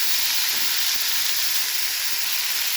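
Snake gourd (padwal) frying in a little oil, a steady bright hiss and sizzle, close and unbroken throughout with no talking.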